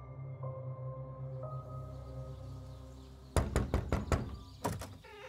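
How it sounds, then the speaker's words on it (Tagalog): Loud knocking on a door, a quick burst of several sharp raps followed by a pause and two more knocks, cutting in suddenly after a quiet humming stretch. "Kaagad akong bumangon nang makarinig ng malakas na katok sa pintuan."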